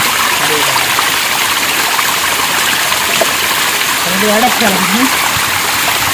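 A village waterfall pours in a constant, loud rushing hiss that fills the whole stretch, with a few brief voices and calls faintly over the torrent.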